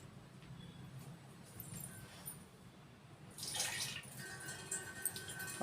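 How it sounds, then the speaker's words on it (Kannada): Water poured into a mixer grinder bowl while preparing cucumber dosa batter, a steady trickling splash that swells louder partway through, heard alone at close range. "ಈ ಮಿಕ್ಸಿ ಬೌಲ್ಗೆ ಸ್ವಲ್ಪ ನೀರು ಹಾಕ್ಕೊಂಡು ಮಿಶ್ರಣ ಮಾಡೋಣ."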